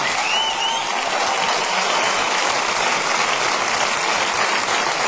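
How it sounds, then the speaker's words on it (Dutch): Dense, loud audience applause fills a live concert hall during a show, a steady wash of many hands clapping without pause and with no voices over it. "En geef een hartelijk applaus."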